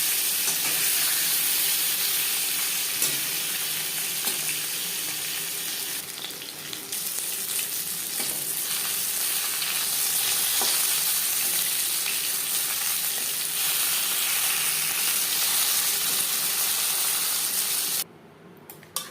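Pieces of fish fry in hot oil in a large wok for a Bengali fish curry, giving a steady, loud broadband sizzle that runs throughout and cuts out abruptly near the end.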